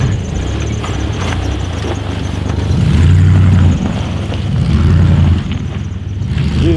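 A Jeep with a 4-liter engine rumbling and revving in snow, loud and close, the low engine drone swelling in two sustained surges before easing off, with no talk.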